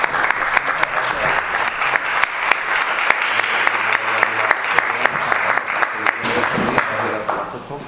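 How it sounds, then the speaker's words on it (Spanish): Audience at a conference breaks into loud, sustained applause, a dense even wash of many hands clapping close by that runs for several seconds before tapering off at the end. "le damos un fuerte aplauso"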